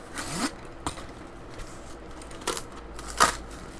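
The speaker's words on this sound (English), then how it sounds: "let me cut through the cardboard" A very sharp carpet blade slices through a shipping box's cardboard, giving a few brief, close scraping cuts separated by pauses.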